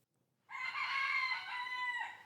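A rooster crows once, loud and close, a long drawn-out call that starts abruptly after a brief silence and holds steady to the end.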